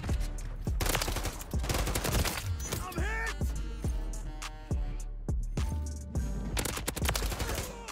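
Rapid bursts of automatic gunfire from a low-recoil weapon in Call of Duty MW3, loud and close with sharp repeated shots in quick strings and short pauses, continuing throughout.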